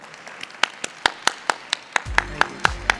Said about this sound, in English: can we have a big round of applause to Sergey?